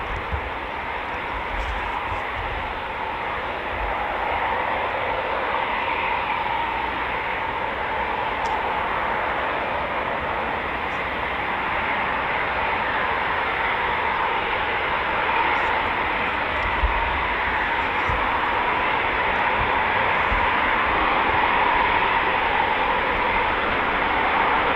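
Eurofighter Typhoon FGR4 jets flying near RAF Coningsby, a steady, loud, broad roar that holds across the whole stretch with no clear break.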